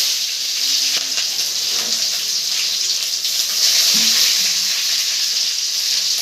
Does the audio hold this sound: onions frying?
yes